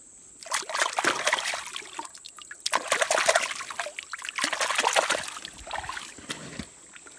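Water trickles and splashes as mud is rinsed off a serrated stone arrowhead, with soft irregular bursts of dribbling and splatter at close range.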